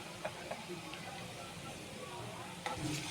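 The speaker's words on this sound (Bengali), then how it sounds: "এখন আমি দিয়ে দিবে পরিমাণ মতো আদা রসুন বাটা" Ginger-garlic paste dropped into a pan with softened onions, a soft, steady sizzle with a few faint clicks, fairly quiet and without talk.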